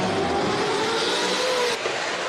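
A V8 supercar races uphill in a hill-climb event, its engine howling loudly at high revs with rising pitch, then a brief dip as it shifts or lifts.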